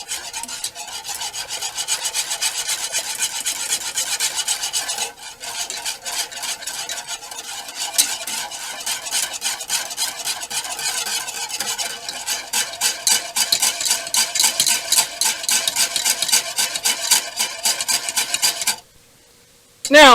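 A whisk scraping steadily around a pot as cornstarch slurry thickens a sauce, a loud, fast, rhythmic metallic rasp that runs almost without a break and stops abruptly near the end.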